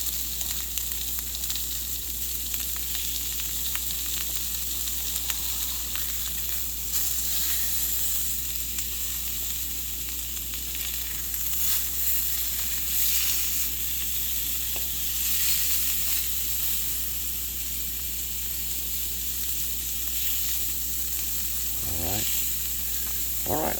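Pork chops browning in a pan, a continuous steady sizzle and hiss close by with occasional faint clinks, no talking over it.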